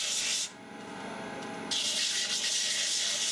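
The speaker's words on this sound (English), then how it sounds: "Use a sandpaper block." Sandpaper block rubbed over a jet washer being scrapped, giving a steady close-up scratchy rasp that drops briefly then returns louder and continuous.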